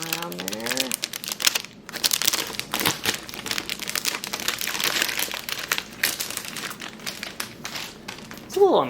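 Plastic wrapping crinkles and crumples as it is pulled off an HP Spectre x360 15 laptop during unboxing, close and busy with sharp rustles throughout, and a voice is briefly heard near the end.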